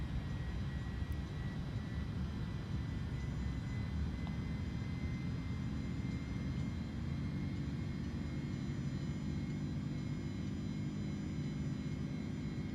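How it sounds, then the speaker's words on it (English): Airbus A310 engines in the MSFS 2024 flight simulator spooling up to takeoff thrust, a steady, loud, continuous jet roar with low rumble that holds evenly throughout, no voices. "I'm going to spool up my engines, allow them to stabilize and toga."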